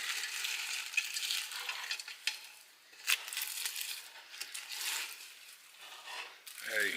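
Spoon scraping and stirring a thick peanut butter mixture in a pot, soft and close, with repeated light scraping strokes and a small clink near the end.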